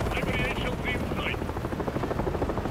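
Helicopters giving cover fire during a Call of Duty: Modern Warfare 3 campaign mission, a steady loud rotor roar with dense gunfire texture throughout, short high whining bursts cutting in near the start.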